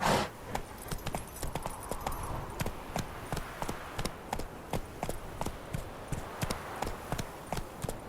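Roach, the horse in The Witcher 3, gallops with a steady, close, rhythmic clip-clop of hooves that continues throughout, without any talking.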